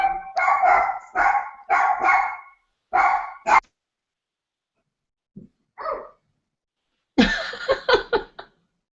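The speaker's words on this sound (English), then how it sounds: "I think Laura Lee, the puppy, is barking." A puppy barks in short bursts of several loud yips, with quieter isolated yelps in between and a final cluster of rapid barks, close by in an indoor room.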